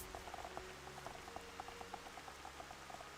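Rain in Xenoblade Chronicles falls as a faint, steady pattering of small droplets under a low ambient hum, quiet and even throughout.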